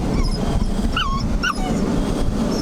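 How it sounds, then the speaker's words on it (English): A Cane Corso puppy whines and gives two short, high yips from somewhere in the background, heard over a steady low rumble, probably a car interior. "that's not a very happy puppy in the back"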